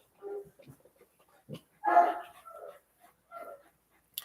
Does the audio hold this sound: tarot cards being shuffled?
no